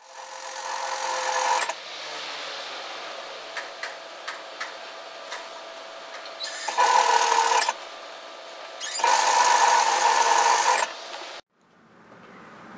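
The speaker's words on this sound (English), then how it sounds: "And sew the side seams on both sides." A sewing machine stitches the side seams of an apron dress in three loud bursts of steady whirring, separated by quieter ticking and clicking pauses, all close up and with no talk.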